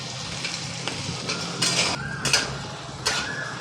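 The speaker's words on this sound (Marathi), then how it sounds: "हे पहा, वाटाणे चटचट आपले उडत आहेत." Peas roasting in hot oil in a pan, a steady sizzle with scattered crackles and pops and a few light clinks of a utensil against the pan.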